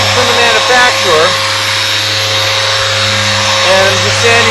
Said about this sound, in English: I'm just sanding it with some 60-micron paper